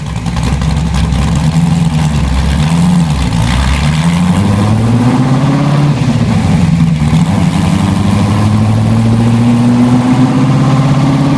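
A 1965 Ford GT40 replica with a 4.7-liter V8 runs loud and close, a deep rumbling engine note that rises and falls with revs before climbing steadily in pitch toward the end.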